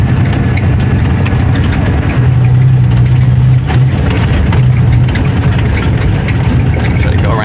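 A truck's engine churns steadily while it drives over an icy, snowy, pothole-filled road, a loud low rumble with a droning engine tone and occasional knocks and rattles.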